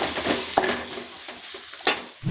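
Onion tempering sizzles in a hot pan for a Chettinad-style masala seeyam, a broad crackling hiss with a few sharp stirring clinks and scrapes, close and alone.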